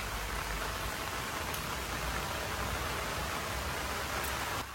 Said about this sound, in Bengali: আর এত বৃষ্টি, মুষলধারা বৃষ্টি, বৃষ্টির মধ্যে কোথায় আর বাজারে যাবে?